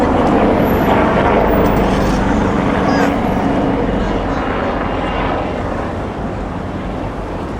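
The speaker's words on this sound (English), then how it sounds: "There's a chopper screaming by." A helicopter's loud rotor roar passes close overhead in Midtown Toronto, easing off gradually as it moves away.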